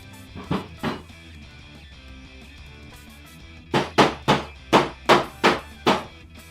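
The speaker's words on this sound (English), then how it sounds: "just belt things with a hammer" Sharp hammer blows ring out while fitting ferrules on a guitar build: two strikes, a pause, then a quick run of about eight evenly spaced, loud metallic knocks, close up.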